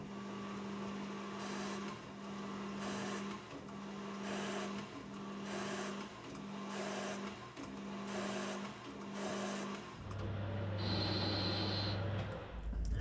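Metal lathe cutting a 2mm pitch thread with a threading bar, a steady machine hum broken by regular repeating passes of a high cutting whine, then a deeper motor tone near the end.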